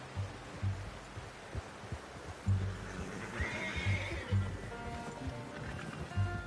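A horse in Red Dead Redemption II whinnies and snorts amid soft hoof thuds and game ambience, with a faint musical tone rising near the end.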